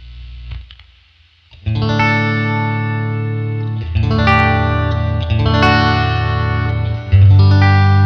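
Electric guitar, a Fender Stratocaster played clean straight through an amp, rings out in sustained, loud strummed chords with a sharp attack after a quiet start, each new chord swelling over the last.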